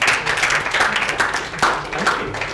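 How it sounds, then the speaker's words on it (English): A round of applause from an audience at a university lecture hall, with dense, steady clapping filling the whole stretch at moderate loudness. "It's always nice to conclude by a round of applause"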